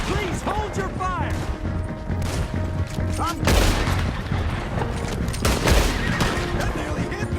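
Rapid bursts of gunfire crackle through a tense skirmish, with sharp reports and heavier booms layered under several shouting voices and a whistling tone.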